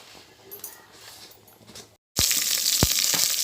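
Loud, steady sizzling of okra frying in hot oil erupts suddenly after a quieter stretch, with a few crackles and pops.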